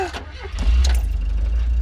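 A 46-year-old car's engine rumbles low and steady at idle after a brief rev, close and fairly loud, with a few faint voices over it.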